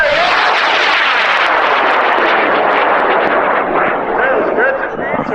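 A high power rocket motor on a K895R launch roars loudly and continuously for several seconds, a dense rushing blast at a spring rocket launch event. Voices are heard beneath it as it slowly starts to recede.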